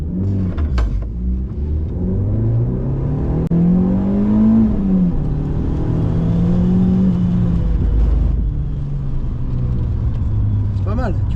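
A car driven hard on a track during a braking lesson: the engine note climbs steadily as it accelerates, then drops away as it brakes hard, with a voice talking over the engine.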